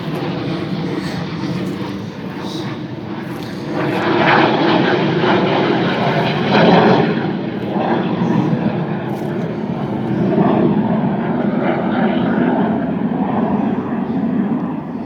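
A jet aircraft passes overhead in a rural spot with tall grass, a broad steady roar that swells over about fifteen seconds and stays loud throughout.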